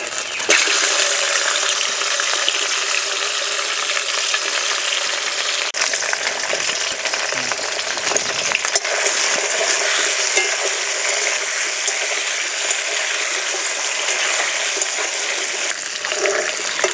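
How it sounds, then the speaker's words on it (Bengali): Cut potatoes fry in oil already used for frying fish, giving a loud, continuous close-up sizzle with occasional stirring and small bubbling pops throughout. "মাছ ভাজা তেলেই দিয়ে দেবো কেটে রাখা মাটির আলু।"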